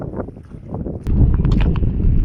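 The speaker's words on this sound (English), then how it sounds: "Again, windy." Gusty wind buffets the microphone, a low rumbling roar that jumps louder about halfway through, with faint clicks on top.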